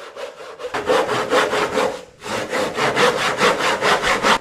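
A dull, long-unused hand saw cuts through wood in steady back-and-forth strokes, close and loud, with a brief pause partway through before the rhythmic rasping resumes.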